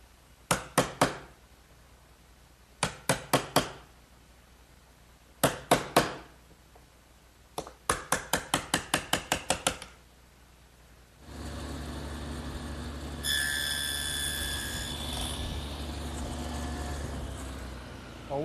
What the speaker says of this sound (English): All the rabbets and dados that we've made have to be chiseled out so that they're square. And I'll just do that with an ordinary chisel.